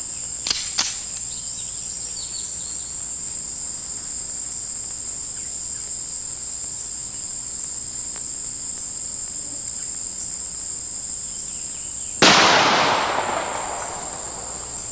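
A single sharp gunshot cracks near the end as a .45 Winchester Magnum full metal jacket round is fired into wood. A steady, shrill insect chorus runs underneath throughout, with a couple of faint clicks early on.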